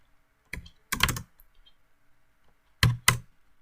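Short bursts of keystrokes on a computer keyboard, a single tap then quick clusters of clicks separated by silent pauses, crisp and close with no voice.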